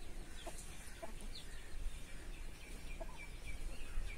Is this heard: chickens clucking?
yes